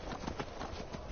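Horse hooves clip-clopping in Skyrim, a quick run of faint, evenly spaced footfalls at a trot or gallop, with no voices.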